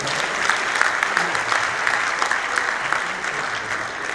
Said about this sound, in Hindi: एक बार अल्ट्राटेक के लिए तालियां बजाइए।